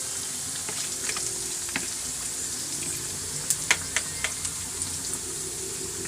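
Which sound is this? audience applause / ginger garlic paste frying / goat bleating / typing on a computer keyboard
ginger garlic paste frying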